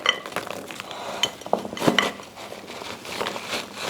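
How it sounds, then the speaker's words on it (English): A spoon mixes frozen blackberries in a bowl, coating them with dry ingredients for a vegan crumble. It scrapes and stirs steadily, with a few sharp clinks against the bowl near the middle. "mix everything together"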